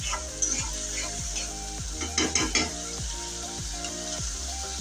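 Spice paste frying in a pan and stirred with repeated scraping strokes over a continuous sizzle, with a steady background hum throughout and no speech.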